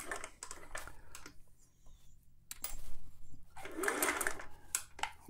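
A vintage Singer 401A sewing machine, just repaired and serviced, runs in uneven bursts of rapid needle clatter with brief quiet gaps, close up and fairly faint.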